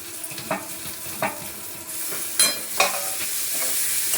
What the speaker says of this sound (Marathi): चांगला कांदा हा लालसर परतून घेते.